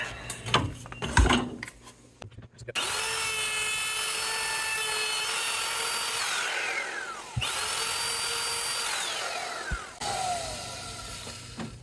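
A power tool cuts into the wood of a G&L guitar neck during a truss rod replacement: a loud, steady, whining motor grind that runs for several seconds with falling pitch sweeps and brief pauses, no talking.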